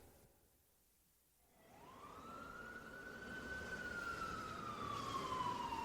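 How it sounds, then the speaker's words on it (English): Fire engine siren rising in from near silence at about 1.5 seconds into a long, steady wail, growing louder as the truck approaches, with rumbling traffic beneath. "When a fire engine passes and its siren makes a loud noise, that could be scary."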